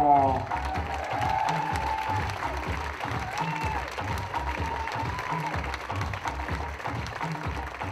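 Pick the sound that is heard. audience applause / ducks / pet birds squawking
audience applause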